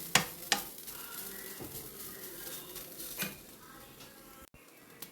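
Grated coconut is stirred in a pan over medium flame for avalose podi made with Amrutham powder, with a soft sizzle, light scraping and a few sharp metallic taps of the utensil against the pan, close and quiet.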